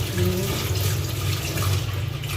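Dishes being washed under a running tap, a steady loud gush of water hitting the sink throughout.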